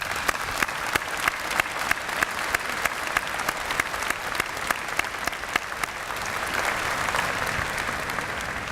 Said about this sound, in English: we owe a big round of applause to our graduating class this year.